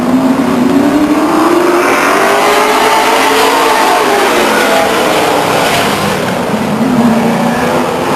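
Stock cars racing on the oval at Stockton 99 Speedway, a loud continuous roar of several engines rising and falling in pitch as they pass, close and sustained with no gaps.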